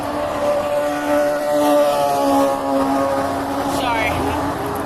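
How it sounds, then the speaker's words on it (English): A loud motorcycle roars past nearby, its engine note rising and falling, with a person speaking briefly over the noise. "loud ass motorcycle"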